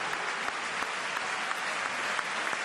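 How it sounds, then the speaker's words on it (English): Stadium crowd applauding steadily at a junior rugby world championship bronze final, a dense, continuous wash of clapping with a few sharper claps, heard alone without talk. "The crowd really appreciating this effort now from both teams."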